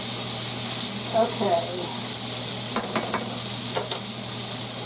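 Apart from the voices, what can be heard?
white bean and sausage cooking in a skillet at medium heat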